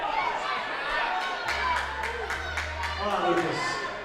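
Crowd noise swells and cheers for a climber on a bouldering wall during a women's semi-final round at a Pan American climbing competition, a broad steady roar of voices with a low rumble beneath, continuous throughout.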